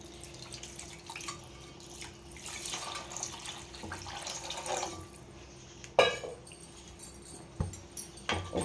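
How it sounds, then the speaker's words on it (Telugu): Water trickles into a pan of Nellore-style fish curry cooking with tomatoes and spices, a faint, uneven pouring and dripping with a few sharper splashes and knocks near the end, close by with no talking. "ఇప్పుడు తగినన్ని వాటర్ పోసుకోవాలి."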